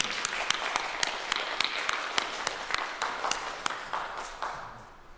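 A church congregation claps together in a round of applause, crisp evenly spaced claps that are moderately loud and roomy, then thin out and fade toward the end.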